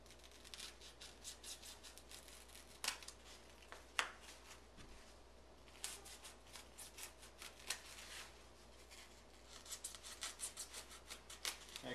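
A sharp X-Acto knife scrapes and slices through balsa for a Slicko II model plane build, with faint repeated rasping strokes and scattered small clicks in a quiet room.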